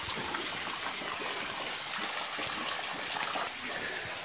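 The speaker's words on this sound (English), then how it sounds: "The ever-running waterfall is still running." Waterfall at Fat Man Squeeze in the Sipsey wilderness, a steady broadband rush of falling water heard close and continuous without a break.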